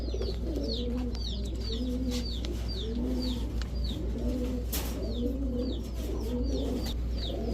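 Pure white pigeons, large paired birds, cooing in repeated rolling phrases close by, several calls overlapping with faint chirps above a low steady background hum.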